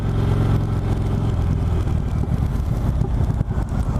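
A 2018 Indian Chieftain Dark Horse motorcycle engine pulls hard and loud while accelerating onto a freeway, a deep steady rumble with rising throb and wind noise, heard up close without speech.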